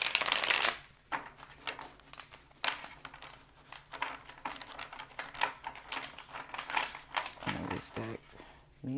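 A tarot card deck being shuffled close up, with rapid crisp riffling and flicking bursts, one loud burst at the start and irregular card slaps throughout, alongside some low talk.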